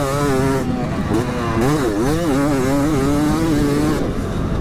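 A two-stroke motocross bike engine revs loud and close, its pitch rising and falling in quick throttle blips with a buzzy, raspy whine throughout.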